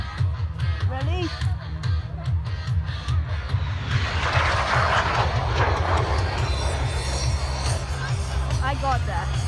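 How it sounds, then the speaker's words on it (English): A Lockheed T-33 jet makes a high-speed pass at an air show, a loud rising roar that builds over several seconds and then fades, with a steady low rumble and crowd voices throughout. "Greg is going to accelerate the T-33 to nearly its top speed and a high-speed pass from the right."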